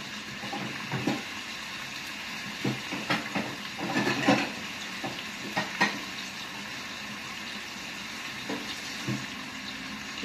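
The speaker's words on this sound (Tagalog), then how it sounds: "Iprito ko lang po ng konti." Seasoned pork tenderloin for adobo frying in a pan, a steady close sizzle throughout with intermittent stirring scrapes and clatters of the utensil against the pan.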